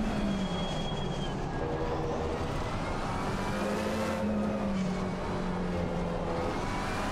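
Racing cars in Assetto Corsa Competizione at Imola, a GT3 race, roar continuously, with a steady engine drone rising and falling slightly in pitch as the cars lap together at speed.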